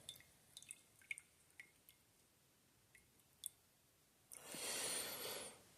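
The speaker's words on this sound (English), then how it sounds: "So you pour it on in, and I like to get the final remaining drops." Last drops of freshly brewed morning coffee dripping into a cup, a series of faint, isolated drips and ticks followed by a brief, louder liquid pour near the end.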